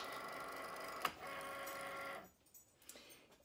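A Cricut cutting machine loads a mat with a steady close mechanical whir and faint clicks, then stops, leaving a quieter stretch with small taps.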